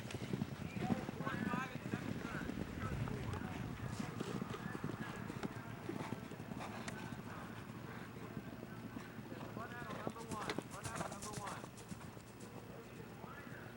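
Horses galloping in a point-to-point steeplechase race, the 1999 Elkridge Harford meet, with a steady rush of hoofbeats and crowd noise running throughout, while someone talks over the racing.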